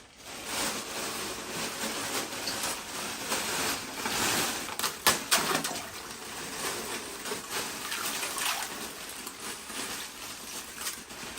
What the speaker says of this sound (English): So I'm going to go ahead and add a little bit more ice.